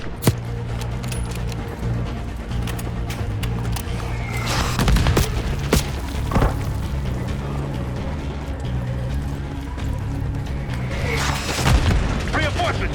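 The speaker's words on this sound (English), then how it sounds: "Those mortars." Mortar rounds in the Call of Duty Black Ops 6 video game burst as a few heavy booms amid ongoing battle noise, with a low droning rumble and scattered crackling impacts between the blasts.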